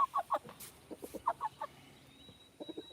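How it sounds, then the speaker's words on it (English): White roosters clucking close by in a farm yard, a run of short bursty clucks early on and a quicker cluster of calls near the end, with a thin steady whine in the background. "I got two white roosters"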